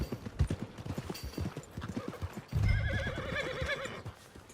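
Horse neighs and whinnies with clip-clopping hooves in Red Dead Redemption 2, the hoofbeats steady in the first half before a loud, close whinny rises and trails off.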